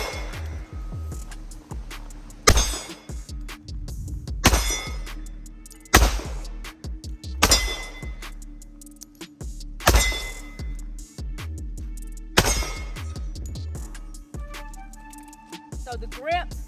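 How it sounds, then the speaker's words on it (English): Six shots from a Smith and Wesson 1911 pistol, loud sharp reports spaced roughly two seconds apart, each trailing off with some echo, with quieter clinks and handling noise between them. "So I'm gonna shoot a couple more times."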